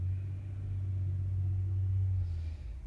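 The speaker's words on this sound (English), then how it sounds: "Listening to the recycle truck, making my background here" A low, rumbling engine of a recycling truck idles and revs nearby, a steady deep drone that fades slightly at the end.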